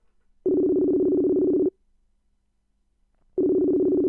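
A telephone ringback tone plays over a speakerphone: a steady buzzing tone lasting just over a second, a pause of nearly two seconds, then the tone again, clear and alone.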